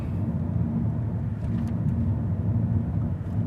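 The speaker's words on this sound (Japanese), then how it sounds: "今磐越道を走ってます。" Cabin of a Nissan Note Autech Crossover cruising on an expressway, a steady low road rumble and engine drone muffled by sound insulation, constant and even with faint higher hiss from wind and tires.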